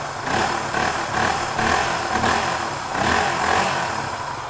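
A Suzuki DR250S motorcycle fitted with a Dominator R exhaust revs in repeated rising and falling bursts, a loud, raspy, close engine note with no voices over it.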